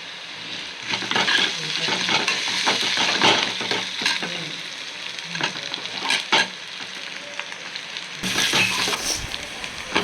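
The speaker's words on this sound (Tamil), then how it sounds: "ஆனியன் ஃப்ரை ஆகிடுச்சு." Onions frying in a pan for mutton liver fry, a loud, close sizzle broken by frequent clattering stirs of a spoon against the pan.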